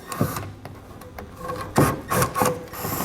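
Torx T25 fasteners being worked loose and pulled from the plastic trim panel of a 2022 Volkswagen, giving a few short scraping, creaking clicks and rubs close by, with no talk.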